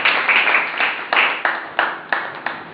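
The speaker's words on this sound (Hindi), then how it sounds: "जोरदार तालियां पालकों के लिए" Loud, close clapping from an audience applauding parents at a school event, with several strong bursts of claps arriving in uneven waves.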